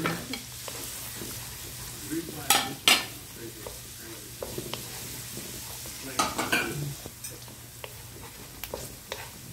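Onion, garlic and ginger sauté in a pan toward light golden brown, a soft steady sizzle broken by several sharp clinks and scrapes of a utensil against the pan, no talk.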